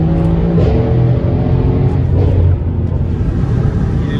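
Porsche 911 Turbo with a stainless steel exhaust, its engine rumbling and revving loudly and steadily up close for a few seconds.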